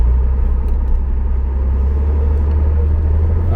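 Reliant Scimitar engine pulling away on a cold day, a deep steady rumble with a pulsing mid-range note, heard close and loud from inside the car.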